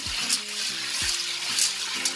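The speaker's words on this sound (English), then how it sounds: "now I'm gonna throw the water out" Water sloshing and pouring as dry beans are rinsed and the rinse water is tipped out of the pot, a close, continuous splashing pour with a few brief louder surges.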